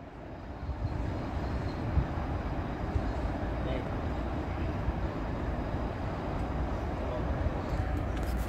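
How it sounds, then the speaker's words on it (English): A train passes at Meadowhall Interchange as a steady, broad rumble and roar that holds loud throughout, with people speaking faintly under it. "Got a train coming down"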